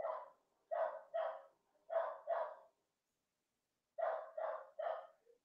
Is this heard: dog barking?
yes